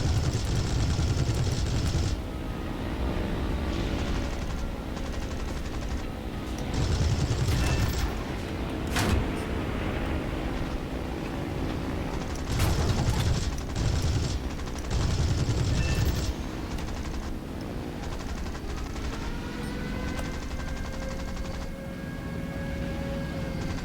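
Guns of a Beaufighter Mk VIc fire in War Thunder, several loud bursts of rapid gunfire in short volleys over a steady engine drone, with quieter stretches of engine between them.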